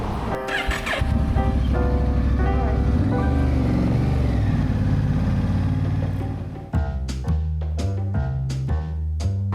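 Motorcycle riding on a highway during a long solo trip toward Key West, with steady loud engine and wind drone through most of the clip, then the engine sound drops and a rising series of rhythmic revving pulses follows near the end.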